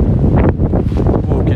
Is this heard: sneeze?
no